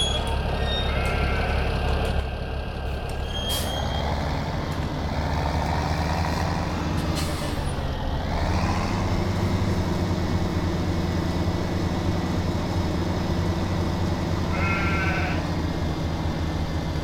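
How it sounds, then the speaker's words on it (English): Sheep bleating in the Farming Simulator 17 video game, a steady stream of animal calls over a constant low engine-like drone, with occasional higher beeping tones, no talk. "I need to feed the sheep"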